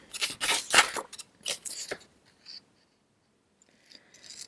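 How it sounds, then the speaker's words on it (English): Scissors snip through a paper border in a series of crisp, close cuts, followed by near silence and light paper rustling. "I want to cut that border again."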